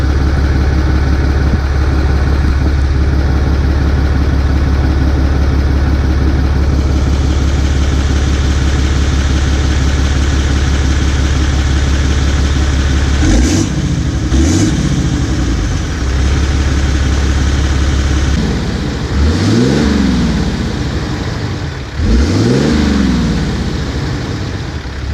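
A Cummins diesel truck exhaust idles with a steady low rumble, heard from close underneath near the tailpipe, then revs up and settles back down several times toward the end.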